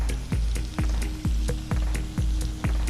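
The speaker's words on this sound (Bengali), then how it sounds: "এখন ভালো করে মশলাটা কষিয়ে নেব।" Spice masala of ginger paste, ground coriander and cumin frying in oil for a Bengali golda prawn curry: a steady sizzle broken by regular stirring scrapes about every half second, close and clear, with no talking.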